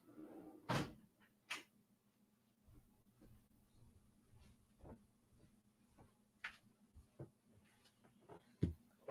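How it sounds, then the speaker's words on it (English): Windows and doors being shut inside a house as the evening turns cold: a few faint, scattered knocks and clacks spaced several seconds apart, off at a distance, with no one speaking. "I'm gonna close the windows and doors because it's getting cold now."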